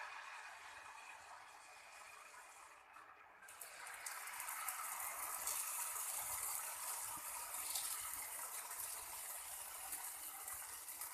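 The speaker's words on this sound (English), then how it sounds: "pour the prepared dosa batter." Dosa batter for benne masala dosa hits a heated, water-wiped tawa with a faint hiss that swells into a steady, soft sizzle and crackle close by, with no voices.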